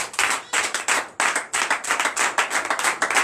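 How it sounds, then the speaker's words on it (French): A church congregation claps in bursts of loud, fairly rhythmic applause at a night prayer service, the clapping close and dense with brief dips between surges and no talking. "Donnez l'acclamation"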